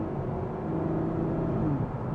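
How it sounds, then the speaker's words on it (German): A 2016 Ferrari GTC4Lusso with a naturally aspirated V12 of nearly 700 hp downshifts in sport mode on the Autobahn, engine braking. A muffled engine hum drops in pitch, heard softly from inside the car. "Und er schaltet jetzt runter"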